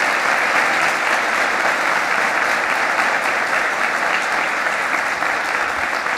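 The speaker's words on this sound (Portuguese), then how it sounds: "Dá um aplauso para Jesus. Dá um aplauso para Deus" A church congregation claps loudly and steadily, a dense unbroken wash of applause from a large crowd that holds at full strength for the whole stretch.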